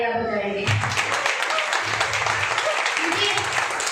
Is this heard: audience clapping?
yes